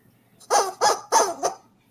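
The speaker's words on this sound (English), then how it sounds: "That's a chicken." Chicken clucking sound effect: four loud, squawky calls in quick succession, each one short and throaty, with brief gaps between them and nothing else heard.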